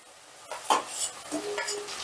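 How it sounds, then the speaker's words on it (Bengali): Fried potatoes get stirred into a spice masala in a hot pan with oil. Scraping strokes of a spatula rise over a low sizzle in short uneven bursts, close and moderately loud, with no one speaking. "এবার এই আলুটা দিয়েও মশলাটা বেশ ভালো করে কষে নেব"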